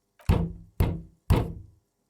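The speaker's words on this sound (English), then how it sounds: "Knock again." Three heavy, evenly spaced knocks land on a wooden door in the video game Disco Elysium, each a deep thud with a brief fading ring and silence after the last.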